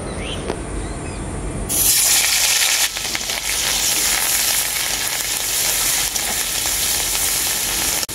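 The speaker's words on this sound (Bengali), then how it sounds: "ওই ডিম ভাজা তেলের মধ্যেই দিয়ে দেবো থেতো করা পেঁয়াজ।" Crushed onion, pounded coarse rather than ground fine, drops into hot oil left from frying eggs and bursts into a loud, steady sizzle that holds without a break after an initial quieter stretch, with no voices.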